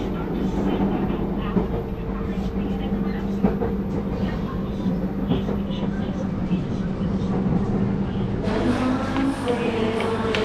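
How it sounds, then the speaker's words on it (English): A modern airport train in Yogyakarta, Indonesia, runs smoothly with a steady interior rumble and low hum, and a voice talks quietly over it before the tone shifts near the end. "Pretty easy ride, pretty quick, very smooth train."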